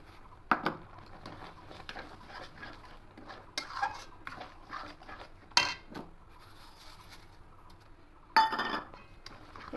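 A metal spoon stirs sugar into a coconut sandesh mixture in a pan, giving sparse clinks and scrapes at irregular intervals over a quiet background, with a few sharper knocks.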